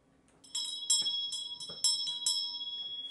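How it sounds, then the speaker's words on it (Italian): A Tibetan bell used for meditation rings in a series of bright metallic strikes, each leaving a sustained shimmering tone that overlaps the next, close and clear with no talk. "la campana è sempre utile, la campana tibetana"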